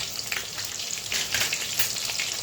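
Pointed gourd, potato and paneer frying with turmeric in a pan, a continuous close sizzle with rising bursts as the pieces are stirred.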